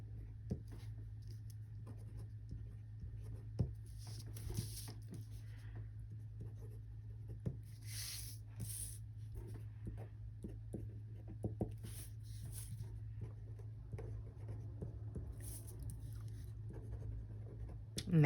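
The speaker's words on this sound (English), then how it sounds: "now I'm just gonna write in like days of the week" Pen scratching steadily across journal paper while days of the week are written into a fall-themed spread, a soft continuous near scratching with small taps and pauses over a low room hum, no talking.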